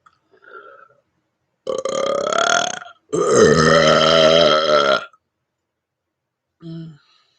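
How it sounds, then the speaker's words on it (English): Two long, loud, croaking burps ring out close up, the second deeper and drawn out, followed by a short grunt. "Burp."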